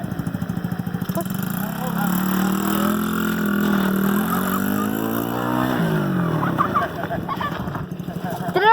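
A dirt bike engine revs under a little throttle, its tone climbing and holding for several seconds before dropping back, close by with people talking over it.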